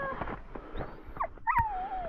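A dog whimpers and whines outdoors during beaver trapping on ice, with short yips and a rising, wavering high whine close by, over low background rumble.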